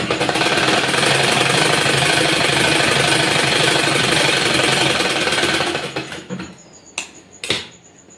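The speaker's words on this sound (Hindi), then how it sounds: "अब हम इसे इस तरह से रखकर सिलाई लगाएंगे" A sewing machine runs continuously and loudly, stitching fabric for a child's shirt, then stops near the end, leaving a few short clicks and handling noises.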